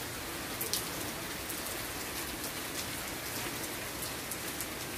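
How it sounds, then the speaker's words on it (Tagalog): Fine rain falls steadily, a soft even hiss of drops pattering on surfaces with a few slightly sharper drips, faint and continuous with no voices. "Pinong-pino ang ulan"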